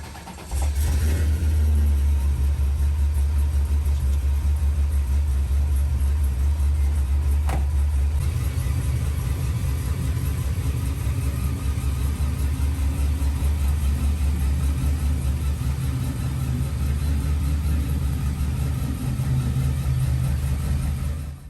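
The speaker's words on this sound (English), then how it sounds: "All right, I'm gonna crank Roxy up, move her back" A 2005 Pontiac GTO, a Holden Monaro underneath, cranks over and catches, then settles into a loud, steady idle with a deep, continuous rumble close by.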